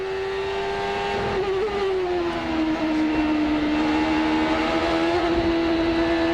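A Champ Car race car screams through a 2003 qualifying lap at Cleveland, a loud sustained high-pitched engine wail that sags slightly then holds steady along the straight.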